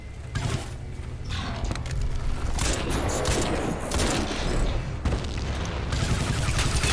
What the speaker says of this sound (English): MLG grenade.